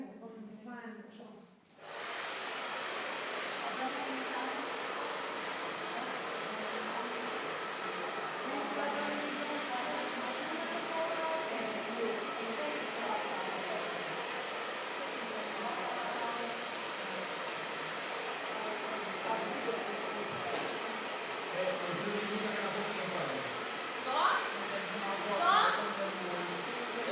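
A hair dryer blows steadily while drying hair indoors, a constant close airy hiss that switches on after a brief moment, with people talking over it at times.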